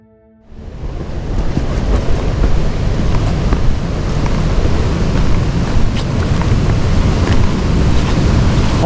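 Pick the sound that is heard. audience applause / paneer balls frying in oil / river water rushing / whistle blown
river water rushing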